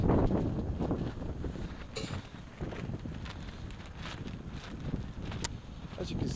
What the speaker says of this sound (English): As you can see, there's a little bit of wind